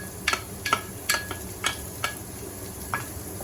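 Onion going into a hot pan with garlic for pesto pasta chicken, a steady sizzle broken by several sharp metallic scrapes and taps of stirring, close and fairly loud, with no talking.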